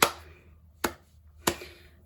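A slow clap: three sharp, isolated handclaps spaced almost a second apart, close and clear against near silence.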